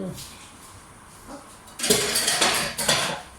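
Lumpy batter being mixed in a bowl: quiet at first, then a run of loud, close clanks and scrapes as a utensil knocks against the bowl in quick strokes.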